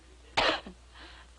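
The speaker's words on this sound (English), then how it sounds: "Fever with malaria don't cough." A single sharp cough bursts out, followed by a softer trailing breath and a faint second sound, close and fairly quiet in an otherwise hushed room.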